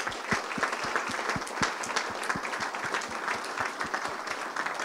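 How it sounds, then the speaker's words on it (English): A seminar audience applauds a data analytics panel with a steady wash of many hands clapping that holds at an even level for about five seconds, with no one speaking. "Let's give our panel a round of applause."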